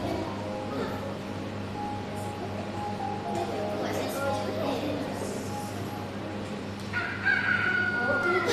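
A rooster crowing sound effect plays inside a Scratch project, a clear cock-a-doodle-doo with some clucking, heard beneath someone talking throughout.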